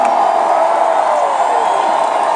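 A rally crowd of roughly fifteen thousand roars and cheers in a steady, dense wash of voices, loud and continuous with no gaps and no single voice standing out.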